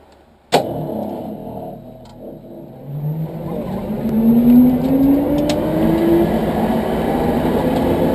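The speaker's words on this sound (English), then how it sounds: "Oh my god, is that the tire burning out?" Custom-built electric car pulling away hard with a tire burnout, a loud broadband roar rising after a sharp start, with a climbing motor whine sweeping upward and sustained tire noise holding steady to the end.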